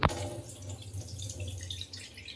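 Lentils for a matar dal and pumpkin greens dish are swished and rubbed by hand in a bowl of water, a steady close splashing and trickling with a sharper slosh at the start.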